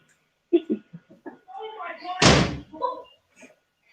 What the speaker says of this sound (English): I need to close my game room door.